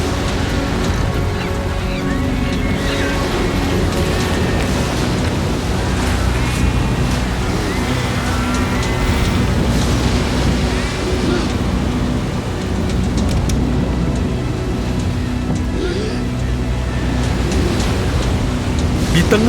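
Loud, steady roaring flood water rushes continuously, a dense turbulent wash that never lets up.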